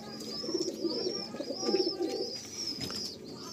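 Madrasi old line pigeons in a loft cooing in low, repeated throaty bursts, close by, with a faint higher chirp running above them.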